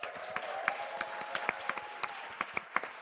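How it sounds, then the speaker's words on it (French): An audience applauds at the close of a quiz show: a steady wash of clapping with sharp individual claps popping out above it, continuous for about three seconds with no talk. "on peut les applaudir"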